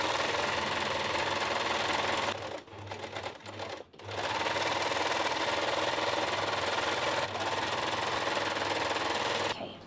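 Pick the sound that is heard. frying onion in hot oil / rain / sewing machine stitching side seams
sewing machine stitching side seams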